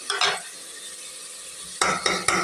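A large chopped tomato fries in a pan for vegetable biryani, hissing in a constant low sizzle. Scraping stirs of a spoon come in short bursts at the start and again near the end.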